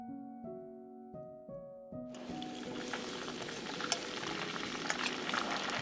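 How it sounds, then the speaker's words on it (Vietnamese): Steady crackling sizzle of fish frying in hot scallion oil in a pot, starting abruptly after a few seconds of low humming tones, continuous and close. "Mình mở lửa vừa rồi mình cho cá vào."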